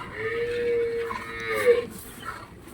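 A Cholistani cross calf gives a single drawn-out moo nearby, with quiet background noise.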